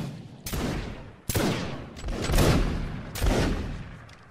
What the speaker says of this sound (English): Ripple fire.